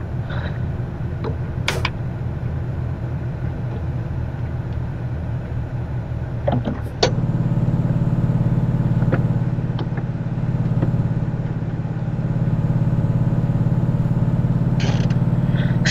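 Steady engine and road drone from inside a Renault car cruising at about 80 km/h, with a sharp click near the start and the hum thickening after a few seconds, constant and close.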